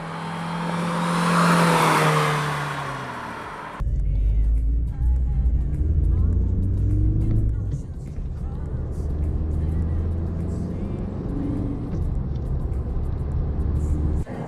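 Diesel engine drone inside the cabin of a Ford Aspire facelift, a steady low hum and road roar that rises and shifts with engine speed, after a brief louder whooshing passage at the start.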